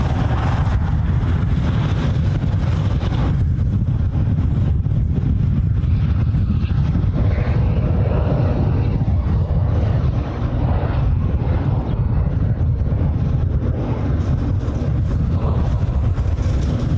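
United airliner flying over during planespotting in Hawaii, a steady, loud jet roar with wind buffeting the microphone, sustained throughout without speech.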